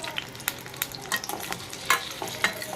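Chopped tomatoes and ginger sizzle in hot oil for a spicy tomato chutney, gently stirred with a spoon, giving a steady close frying hiss broken by soft scraping strokes, with no talking.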